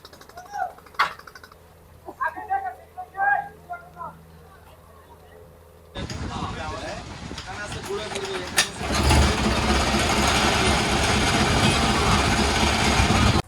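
A voice talks over a quiet background, then a loud machine engine kicks in and drones steadily while slowly hauling a deep-sea fishing trawler ashore in the Sundarbans.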